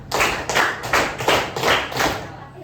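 Students in a class clap in unison to a counted pattern, roughly six crisp collective claps spaced in short rhythmic groups, close and fairly loud.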